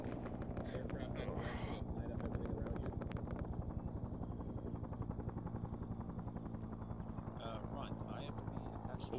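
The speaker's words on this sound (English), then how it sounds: "I will send the aircraft" An aircraft in the military video game Arma 3, heard as a steady, rapidly chopping rotor drone like a helicopter that holds throughout, faint and far, with brief radio-like beeps over it.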